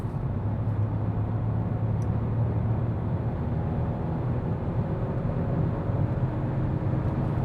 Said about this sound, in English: So what does this small engine but with the turbo still deliver us when we start at 100 kilometers or 60 miles an hour and accelerate?